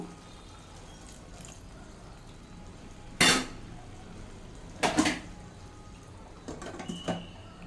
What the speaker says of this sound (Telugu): కొద్దిగా ఇంకొంచెం వాటర్ వేసి మళ్ళీ మూత పెడతాను.